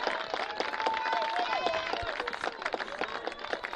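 Crowd applause and cheering at a college baseball game between Earlham and Wisconsin-Oshkosh, a steady mid-distance clatter of clapping that holds throughout with faint voices mixed in.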